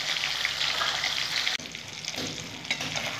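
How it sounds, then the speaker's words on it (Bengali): Small chapla fish frying in hot oil, a close, dense continuous sizzle that briefly dips as the food is moved, then resumes with bubbling crackle. "দেখো বন্ধুরা, কি সুন্দর লাল লাল করে আমি চাপলা মাছগুলো ভেজে নিলাম।"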